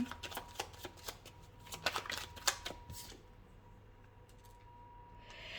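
Oracle cards shuffled and drawn in a series of quick, crisp riffling flicks over the first three seconds, then near quiet with a faint rustle toward the end.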